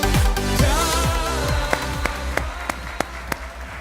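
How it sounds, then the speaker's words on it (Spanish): Church congregation applauding at a Christian community service in Mexico, a dense wash of clapping with music underneath that thins into a few distinct, fairly close rhythmic claps near the end. "Recibamos con un fuerte aplauso la palabra de Dios"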